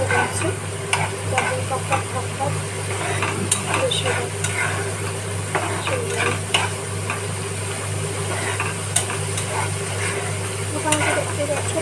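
Tomatoes frying in hot oil while being stirred steadily, a continuous close sizzle with scraping stir strokes over a low steady hum, no voices.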